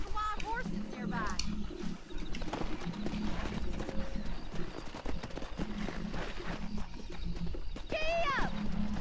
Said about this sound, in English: there's a pack of wild horses nearby